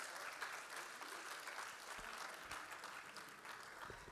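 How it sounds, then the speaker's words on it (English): Audience applause following an auction sale at a Rajab celebration in Manchester: a steady, fairly faint wash of clapping hands lasting several seconds without a break. "Round of applause, please."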